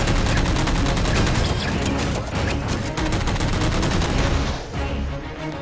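Dense gunfire effects from a Halo stop-motion battle rattle loudly and continuously in rapid bursts, with heavy thumps beneath and a brief lull before the firing resumes.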